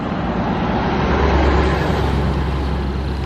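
Steady road traffic rumbles through a busy neighborhood at rush hour, a continuous loud wash of passing cars and heavier vehicles with a deep low drone and no pauses.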